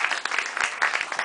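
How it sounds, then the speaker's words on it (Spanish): Audience applause at a literary and art café evening, a dense steady patter of many hands clapping for about a second, fairly loud and close. "pido un fuerte aplauso para ella."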